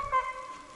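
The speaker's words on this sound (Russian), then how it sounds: "Звук дождя шуршит." Rain rustling steadily in the taiga by a riverbank in May, a soft, even hiss close by with no voices.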